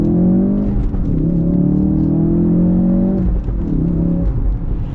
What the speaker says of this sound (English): So we're gonna get acceleration here with the RS.